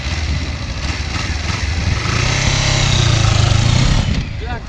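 A motorcycle engine runs steadily and loudly up close, its pitch rising as the rider shifts gears, then easing near the end.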